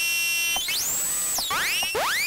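Serum soft-synth patch with FM synthesis and LFO-driven pitch rise: bright electronic tones swoop upward in repeated sweeping chirps, loud and close, several rising glides in quick succession with no voice.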